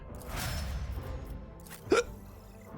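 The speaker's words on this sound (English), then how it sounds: "Oh, my goodness, I have the hiccups or something." A single sharp hiccup rises abruptly out of steady background sound about two-thirds of the way through, close and brief.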